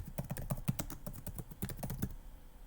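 Computer keyboard typing during a tabletop game session, a fast burst of close clicky keystrokes with soft thuds, steady then stopping, no talk.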